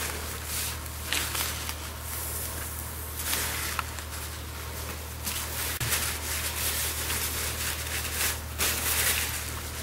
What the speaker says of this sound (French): On nettoie le bord.